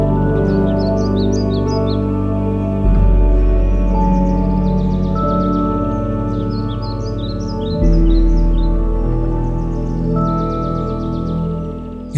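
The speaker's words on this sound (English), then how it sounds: "you will hear some chirping of birds" Birds chirp in a Kodaikanal forest in brief, repeated high twittering bursts over a loud, steady droning hum that swells twice.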